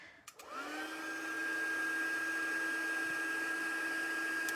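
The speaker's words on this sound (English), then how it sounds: "I'm hoping you can still hear me with the noise of my heat tool on." An embossing heat tool runs close by with a steady, loud blowing whine that holds unbroken for several seconds after switching on, with no talk over it.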